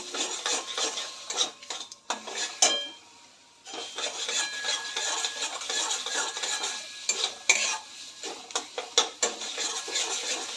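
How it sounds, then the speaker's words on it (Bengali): A spoon scrapes and stirs cream into a thick frying spice paste in a pan for prawn malai curry, with rhythmic rubbing strokes and a faint sizzle underneath, no talking. "অল্প করে ক্রিম দেবো আর নাড়তে থাকবো।"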